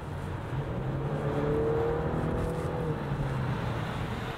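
A 2019 Genesis G70 with a 3.3-liter turbocharged engine and 8-speed automatic accelerating on the road, a steady engine drone heard from inside the cabin that rises slightly, with no talking.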